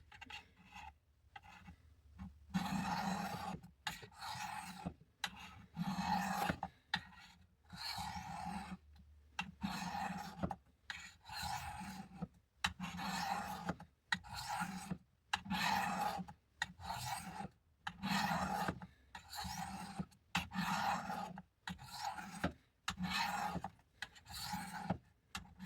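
A worn edge on a World War II-era vintage M3 fighting knife is drawn across a sharpening stone in steady repeated rasping strokes, each a short scraping burst separated by brief pauses, close and moderately loud.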